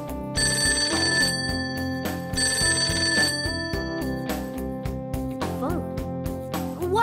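A telephone rings insistently in the Persona 5 Tactica video game, repeating bursts of electronic bell tones in a steady on-off rhythm over soft background music, clear and close.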